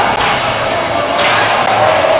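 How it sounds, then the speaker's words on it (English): A large volleyball crowd roars and cheers in a steady, loud wash during a men's match, with a couple of brief swells and no clear voice on top. "What a crowd."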